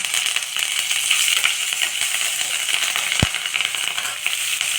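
Curry leaves sizzle in hot oil while making curd aval, a loud, steady frying hiss with crackles and one sharp tap partway through.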